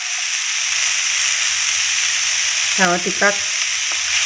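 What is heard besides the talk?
stirring green beans frying in a pan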